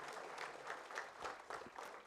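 Audience applause welcoming the Union Bank of India CEO at a PSBs Hackathon 2025 event: a steady, fairly faint patter of clapping with small swells, sustained throughout.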